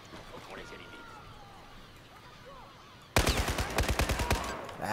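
Rapid bursts of gunfire from the video game Battlefield 4 break out suddenly after a stretch of quieter ambient sound, loud and close with a rattling, uneven rhythm.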